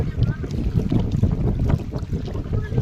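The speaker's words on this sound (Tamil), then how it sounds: "சூப்பராக காற்றெல்லாம் அடிக்குது." Wind blows strongly outdoors at Kallanai, a steady rushing buffet against the microphone with low rumbling gusts throughout and no clear voices.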